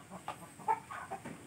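A rooster or hen with rough legs, a never-fought fighting chicken of the thin-tailed (ekor lidi) type, gives a few short soft clucks at close range, with quiet gaps between them.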